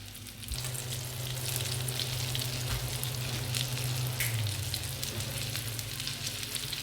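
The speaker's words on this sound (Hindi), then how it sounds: "लाइट सारा कलर आ गया, फ्राई हो रहे हैं।" Chicken patties fry in hot oil, giving a dense, steady sizzle with crisp crackles that stays loud and even from start to end.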